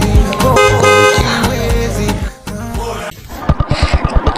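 A car horn sounds in long, close blasts, then a vehicle engine chugs nearby in a rapid, pulsing rhythm.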